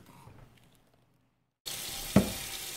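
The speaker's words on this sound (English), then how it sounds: "Now just run some hot water from the tap through it." Hot tap water gushes through a colander in a kitchen sink, starting abruptly after a brief quiet stretch with faint background sound, then a loud, steady splashing rush with a sharp spatter as the stream hits.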